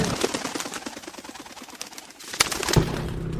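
Pigeons coo softly and steadily at a pet market in San Carlos, Pangasinan, over a busy, noisy background, with a sharp clatter and a brief tone near the end.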